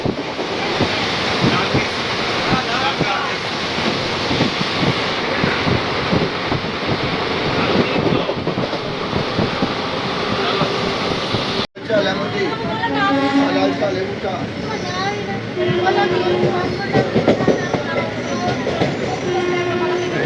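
The Ganadevata Express, train 13017 from Howrah to Ahmadpur, runs at about 100 km/h into Richra station. Heard from on board, it makes a loud continuous roar of wheels and rattling carriages, broken briefly by a sharp cut, with voices talking beneath it.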